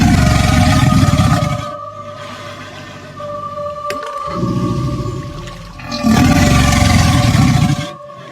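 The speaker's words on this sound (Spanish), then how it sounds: "Los cocodrilos son animales que llevan muchísimo más tiempo que nosotros en la Tierra." A crocodile gives deep, rumbling roars in two loud bursts with a quieter, lower growl between them, close and alone with no talk.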